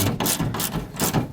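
A ratchet wrench tightens a breaker nut while a converter and battery charger are mounted in a 2002 Coachmen RV. Quick, close clicking bursts repeat at a steady rhythm, with no talk.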